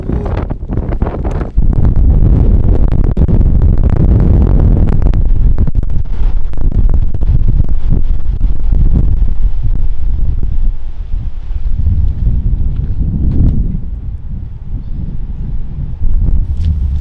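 Strong wind buffeting the microphone on a boat while steelhead fishing on Oak Orchard, loud gusty roaring rumble that persists throughout with rough bursts and no clear talk.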